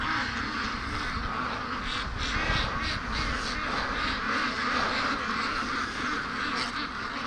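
Ducks on a free-range duck farm, including Muscovy ducks and geese, give a continuous chorus of quacking and calls that stays steady throughout, with a dog nearby and faint talk in the background.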